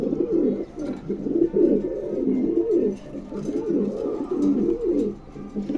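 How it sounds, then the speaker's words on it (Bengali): A pair of pigeons being offered for sale coo steadily and close by, low rolling calls repeating throughout with no talk over them. "চমৎকার এক জোড়া কবুতর, ভালো লাগলে অবশ্যই সংগ্রহ করবেন।"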